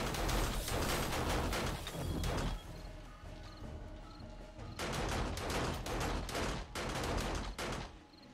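Gunfire in the video game 7 Days to Die erupts in loud, rapid bursts of shots, pauses briefly with quieter game sounds, then resumes in several more sharp volleys.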